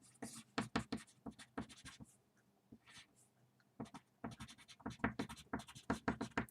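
A pencil scratches rapidly across paper in bursts of short, dry strokes, close and clear, with a brief pause in the middle before the writing resumes.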